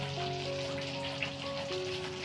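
Steady rain falls continuously as a dense, even hiss, with a constant low tonal hum running underneath and no voices.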